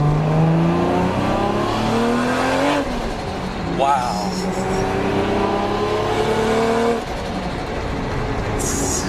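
A turbocharged Nissan Skyline GTR R32 engine revs and climbs in pitch, its tone rising under boost, with a brief exclaimed word from someone nearby.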